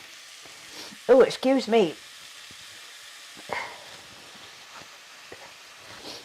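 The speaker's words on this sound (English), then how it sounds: "I want the chicken just to cook on the outside. Just to saute like that." Chicken pieces sautéing in a pan for a curry give a soft, steady sizzle throughout, while a person makes a brief vocal sound and says a few words near the start, followed by a couple of light clinks.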